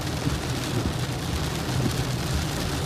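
Heavy stormy rain pours down in a steady, dense wash of broadband noise with a low rumble underneath, loud and continuous throughout, with no voices.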